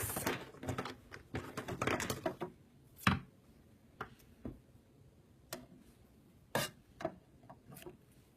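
Scissors snip through sewing pattern paper in a series of crisp, irregular cuts, each a sharp dry click with brief pauses between, close by with no talking.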